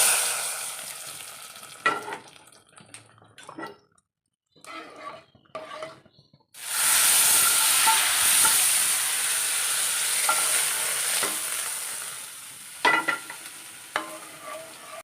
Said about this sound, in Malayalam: കുറച്ച് ചതച്ച മുളക് ഇട്ട് കൊടുക്കാം. നമുക്ക് കറിയിലേക്ക് ഒഴിച്ച് കൊടുക്കാം.